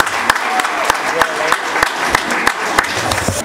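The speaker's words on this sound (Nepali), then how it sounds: "ताली बजाएर हामी उहाँलाई स्वागत" Audience applause welcoming a guest speaker at a Christian federation's general assembly in Nepal, a steady wash of clapping with sharp individual claps standing out at a fairly regular rhythm.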